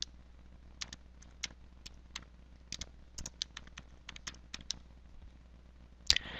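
Typing on a computer keyboard: sparse, crisp key clicks in irregular short runs, close and fairly quiet over a low steady hum, ending with a sharper click.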